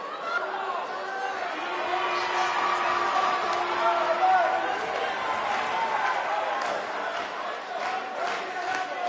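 A wrestling arena crowd chants and cheers in a steady, moderately loud roar of many voices, with scattered shouts and whoops rising and falling throughout.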